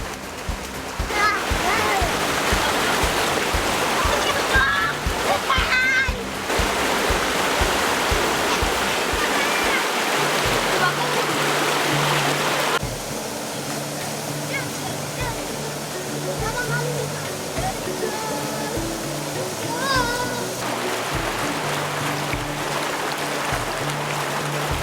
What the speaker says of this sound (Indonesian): lihat kawan-kawan Ucok mandi di air sungai yang dingin